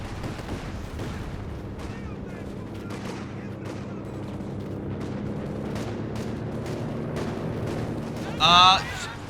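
In the Company of Heroes 2 video game, Nebelwerfer rocket artillery fires amid a 4v4 battle, with repeated sharp bursts and rumbling blasts under a voice commentating, ending in a louder whooshing volley.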